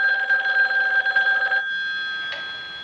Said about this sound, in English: Answer the phone. I don't want to talk to anybody. Let it ring.